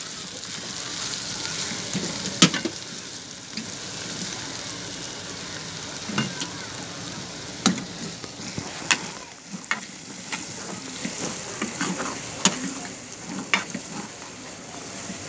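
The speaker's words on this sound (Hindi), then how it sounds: "अब हम अपने मसाले को भूनने देंगे" Turmeric, coriander and garam masala fry and sizzle in a pan as a spoon stirs them, a steady soft crackle broken by scrapes and knocks against the metal, with no talking.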